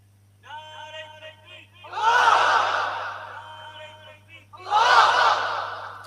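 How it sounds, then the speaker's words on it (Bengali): A religious gathering's crowd roars a takbir in unison twice, each a loud swelling chorus of many voices, after a voice leading the call. "বলো একসঙ্গে সবাই মিলে বলো শুধু তাকবীর"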